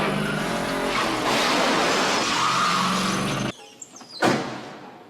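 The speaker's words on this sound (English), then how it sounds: "Norris hotwires the car and goes for a little joyride" A hotwired stolen car tears off on a joyride in a 1984 film, its engine roaring loudly and steadily for a few seconds before cutting to near quiet with a couple of brief sharp screeches or skids.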